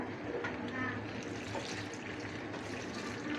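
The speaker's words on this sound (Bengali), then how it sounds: "তার আমি এখন একটু পানি দিব" Water pours steadily into a pan of beef liver being braised in a home kitchen, a continuous close splashing trickle lasting a few seconds with no talk over it.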